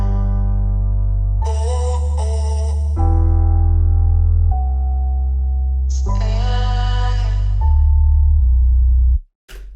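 An emotional music loop layers halftime keys, arcade-style vocal tones and deep sub bass, moving through sustained chord changes that shift every second or two before cutting off abruptly near the end.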